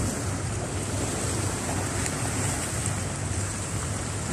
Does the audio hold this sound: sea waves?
yes